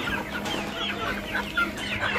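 Farm chickens cluck busily and close by while they are fed bran, with overlapping short calls over steady background noise.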